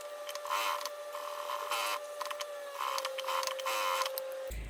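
A sewing machine runs steadily, stitching fabric with a half-centimetre seam allowance while making a small fabric accordion wallet, with a continuous mechanical whir and rhythmic clatter that stops abruptly at the end.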